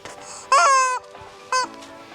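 A toy chicken lets out two loud, squeaky honking clucks, the first longer and the second short, close by with faint background noise between.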